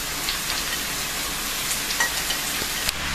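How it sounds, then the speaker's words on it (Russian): Carrots and bell peppers frying in a pan, giving a steady, soft sizzling hiss with occasional faint clicks of stirring, no voices. "И обжариваем до размягчения моркови."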